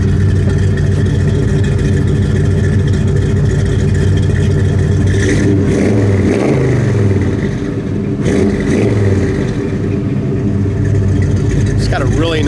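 A 1973 Chevrolet Camaro Z28 with dual exhaust idles with a deep, loud rumble and is revved briefly a couple of times, while people talk nearby.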